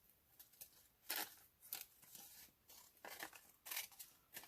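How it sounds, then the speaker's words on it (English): Scissors snip through partly cut paper during Halloween folio crafting, a run of short crisp cuts in an irregular rhythm, close and fairly quiet, with no talking. "Nothing the scissors can't take care of."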